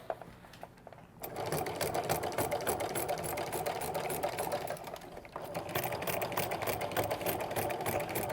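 A sewing machine runs steadily while stitching slowly over twill tape on a fabric basket handle, a fast close mechanical whir with a short stop near the start, heard without talk.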